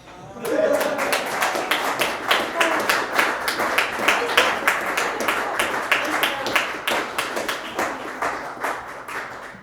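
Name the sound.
audience clapping after recital piece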